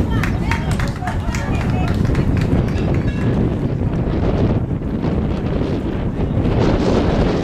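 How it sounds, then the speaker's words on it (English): Strong wind buffets the microphone at an outdoor youth baseball game, a loud, constant low rumble that masks the background while people talk. "The wind changed directions in our face now."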